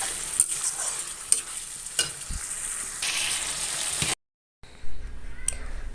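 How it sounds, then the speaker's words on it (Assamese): Broiler chicken meat frying in a pan and being stirred, with a continuous close sizzle and repeated scraping, clicking stir strokes, then a brief gap before the sizzling resumes. "সেইকাৰণে মাংস বহুতকৈ লৰাই থাকিব লাগে।"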